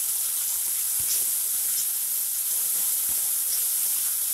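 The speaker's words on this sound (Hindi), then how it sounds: "प्याज के साथ हम इसे भी गलने तक भून लेंगे" Tomatoes and onions fry in a pan with a steady, loud sizzling hiss that runs unbroken throughout, broken only by a few faint ticks and pops, with no voices over it.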